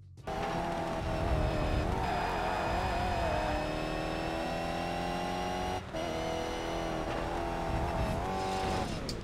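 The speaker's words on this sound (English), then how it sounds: "That engine can't take much more. It's gonna blow." A race car engine in the video game ToCA Race Driver 3, in a British GT event, howls loudly and continuously as revs rise and fall across gear changes, with a brief break near the middle.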